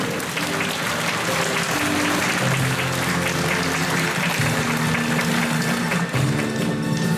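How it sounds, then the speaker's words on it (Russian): An audience at a library centenary celebration in a cultural centre applauds steadily for several seconds, with sustained musical tones playing underneath the clapping. "Аплодисменты, друзья!"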